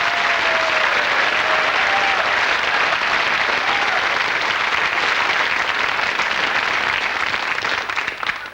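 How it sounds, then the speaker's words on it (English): Audience at a BBC magic show giving loud, sustained applause, a thick roar of many hands clapping that holds steady and begins to thin out at the very end. "What we want is woofing applause here"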